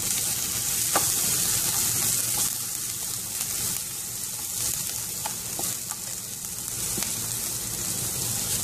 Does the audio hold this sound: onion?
yes